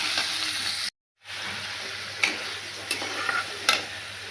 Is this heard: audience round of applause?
no